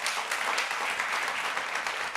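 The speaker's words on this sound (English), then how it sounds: "please clap now" A conference audience at Nudgestock 2024 claps to vote on an option during a talk, producing a steady, dense burst of applause that stays even in loudness throughout.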